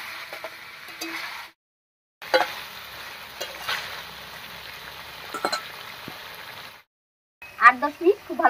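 Chicken pieces fry and get stirred in a pan for a village-style curry, with sizzling broken by short scraping strokes, a brief gap of quiet, then louder clattering near the end.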